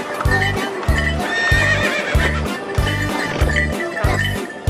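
A horse pulling a delman cart clip-clops in a steady, even rhythm, loud and close, with a neigh amid the hoofbeats.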